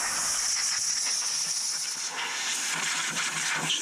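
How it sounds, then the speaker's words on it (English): A sustained, loud hiss of compressed air blows out a jet ski's electrical box, a steady rushing stream with no voices. "I've proven that I've blown it out with the air compressor."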